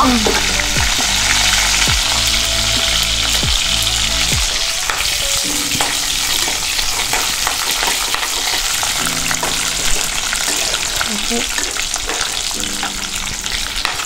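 Chilies and coriander leaves sizzle loudly in hot oil for a South Indian tempering, a steady bright frying hiss with intermittent stirring scrapes and clinks throughout, close by and with no voices.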